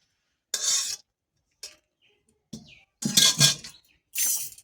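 Boiled jackfruit seeds are ground with salt and fried garlic and chili, giving about five separate bursts of coarse, rasping grinding strokes, close and moderately loud, with short silences between them.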